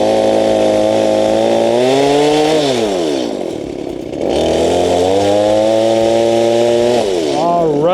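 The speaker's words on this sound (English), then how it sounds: "We've got a bunch of these logs." A chainsaw cutting through logs in a yard, its engine loud and close, whining at high revs, dropping briefly as the cut eases, then roaring back up.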